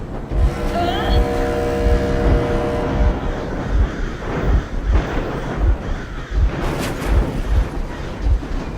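A vehicle engine rumbles continuously in the Metro Exodus video game, a loud, rough low drone with rhythmic thumps, mixed with other game noise.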